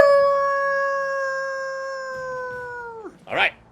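A person imitates a wolf with one long, sustained howl that holds a steady pitch, then bends downward and breaks off into a short vocal burst.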